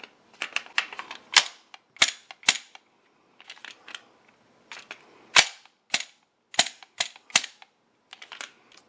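An XDM pistol having its magazine inserted during a slide lock test gives a close, irregular series of sharp metallic clicks and clacks, with no talking.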